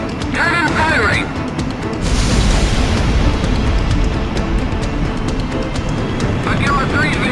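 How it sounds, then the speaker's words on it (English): Shock cannon fire in the air-combat game Ace Combat X, a heavy sustained rumbling roar that swells in at about two seconds and holds steady, with game voices and radio chatter mixed over it. "Cannon firing!"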